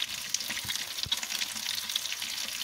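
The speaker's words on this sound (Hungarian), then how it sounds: "Itt sül benne a finom" Sliced sausage for Hungarian bean pottage fries in a pan, a close, steady crackling sizzle with scattered sharp pops and a few soft knocks, no voices.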